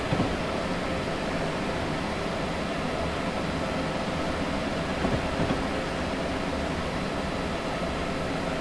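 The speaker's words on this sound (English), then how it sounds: "Alright, gotta slow down the train." An Amtrak ACS-64 electric locomotive in Train Simulator 2021 gives off a steady, dense rumble and hiss as it slows, holding a constant level with no voices.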